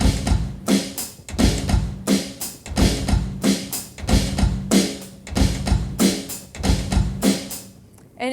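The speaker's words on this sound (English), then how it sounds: "So it goes like 16th on the foot and just 1/8, and then here 16th on the hi-hat." On an acoustic drum kit, a slow limb-independence groove places 16th notes on the kick and hi-hat, with snare hits repeating in an even cycle, close and clear with no talking.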